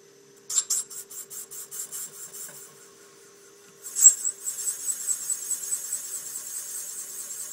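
Bronze intake valve seats being cut in a Ducati 996 cylinder head, with rhythmic rasping scrapes in two bursts separated by a short pause, close and alone.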